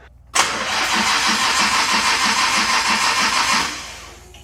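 Nissan R33 GTR engine with NISMO parts cranking and firing up after a short silence, then running at a steady, loud idle for about three seconds before settling slightly, close to the car.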